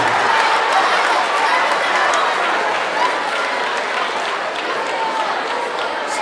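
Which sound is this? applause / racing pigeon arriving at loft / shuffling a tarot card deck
applause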